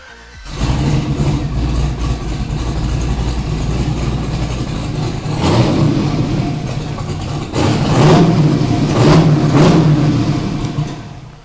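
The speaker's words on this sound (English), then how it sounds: "This right here is an LS twin turbo 1000 horsepower V8." An LS twin-turbo V8 making 1000 horsepower runs loud and steady at close range, then revs up in several surging bursts.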